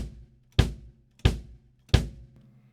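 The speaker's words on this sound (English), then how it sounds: "This is the kick drum. It sounds a bit like this." Kick drum hit three times at an even, moderate pace, each a deep close thump that quickly decays, with silence between and no talking.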